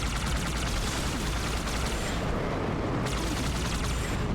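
Continuous, loud gunfire and explosive bursts from Halo 2: Anniversary combat, a dense unbroken barrage with no pauses and no speech.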